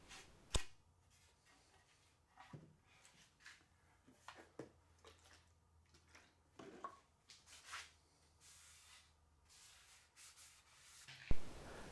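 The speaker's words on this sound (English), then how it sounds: "that allows me to get that initial sanding done a lot faster than if I were to work through a lot of different grits" A guitar body is hand-sanded with 150 grit sandpaper, giving quiet, intermittent rubbing strokes with a few sharp ticks and handling knocks in between.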